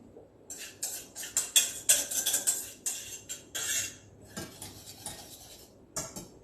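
A spoon or whisk stirs thick coconut-pineapple financier batter in a bowl, making a steady run of close scraping and clinking strokes in an uneven rhythm, with no talking.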